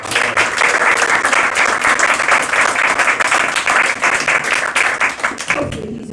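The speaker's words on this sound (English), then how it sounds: "So let's give him a round of applause." Loud, close audience applause at a museum gathering, a thick continuous rattle of many clapping hands that holds steady and then trails off at the end.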